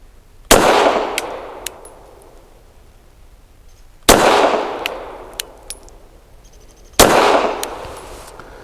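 Three loud, close gunshots from a Girsan MC14G84 .380 pistol firing Remington Golden Saber 102-grain brass-jacketed hollow points, spaced a few seconds apart, each with a sharp crack and a ringing decay, plus faint metallic clinks of casings between shots.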